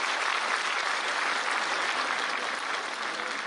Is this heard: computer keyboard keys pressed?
no